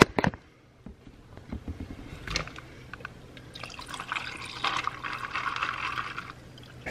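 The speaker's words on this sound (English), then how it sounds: "I'm gonna go ahead and pour this" Liquid pouring steadily into a container, a bubbly, rising fill sound after a few sharp taps and drips at the start, close and moderately loud.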